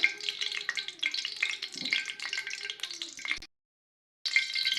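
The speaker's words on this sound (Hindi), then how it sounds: "घी को हम लोग मेल्ट होने देंगे।" Ghee melting and heating in a kadhai gives a crackling, spattering sizzle with small pops, broken by a brief silent gap before the frying resumes.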